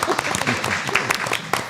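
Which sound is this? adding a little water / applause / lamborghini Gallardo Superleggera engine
applause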